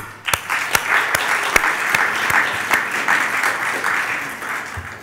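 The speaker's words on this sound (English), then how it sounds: "Let's have a big round of applause for all of us once again" Audience applause at an awards ceremony, a steady wash of many hands clapping with a few sharper near claps standing out, sustained evenly throughout.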